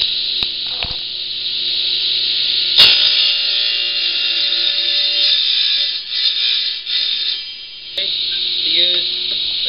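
A dado blade on a saw cuts a wooden whirligig hub held on a jig: a loud, sustained high whine runs nearly the whole clip, dipping briefly near the end, with a sharp knock early on.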